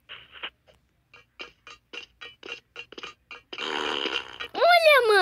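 Fart sound effect in a Roblox game, a short blurting burst after a run of choppy game noises, followed by a rising squeaky tone.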